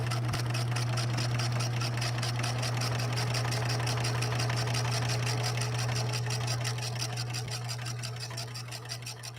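A Singer 6233 sewing machine stitches at a fast, even pace, its motor humming low and steady beneath a rapid regular clatter of the needle, loud and close, easing slightly toward the end.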